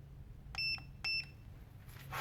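A continuity tester on a Subaru switch wire gives two short, clean electronic beeps about half a second apart, faint against a low background hum.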